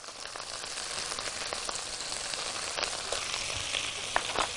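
Onions fry in a pan for a Egyptian home-style dish, giving a steady, close crackling sizzle with scattered pops throughout and no voices.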